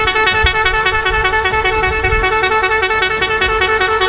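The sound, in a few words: extremely loud 170 dB horn honking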